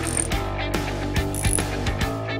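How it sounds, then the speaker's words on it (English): Rapid metallic clicking of a Craftsman Mach Series ratchet driving bolts, heard as a close, crisp series of pawl clicks in quick bursts with no voices. "Easily drive bolts forward and backward with Craftsman Fast Drive technology."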